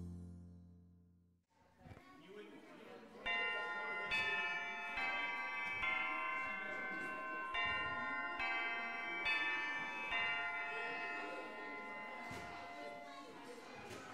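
A school bell in a video game rings out after a brief quiet, a sustained, bright, bell-like tone that continues steadily for many seconds, with brief rhythmic pulses running through it.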